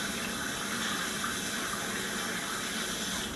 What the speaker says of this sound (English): Just wash them a little bit